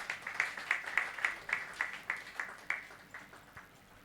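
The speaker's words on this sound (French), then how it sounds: "Applaudissons la parole de Dieu." A small church congregation claps in a steady, even rhythm, roughly a dozen crisp hand claps that fade toward the end, with no other sound beside it.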